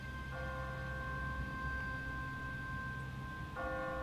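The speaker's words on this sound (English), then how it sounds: "What kind of church bell goes off at 20 past the hour?" A church bell in The Walking Dead video game rings steadily at a distance, two struck tones with a long sustained ring over a low constant background hum.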